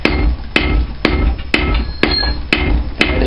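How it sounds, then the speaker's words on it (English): A rounding hammer strikes hot steel on an anvil while forging a diagonal hot set chisel, seven sharp ringing blows falling at an even half-second rhythm, loud and close with no talk. "again, with the rounding hammer, you can direct it if it's bulging"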